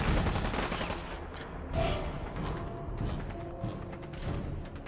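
Gunfire in the video game Fallout 4, rapid bursts of shots forming a loud, sustained fusillade with a few heavier thumps, continuing throughout.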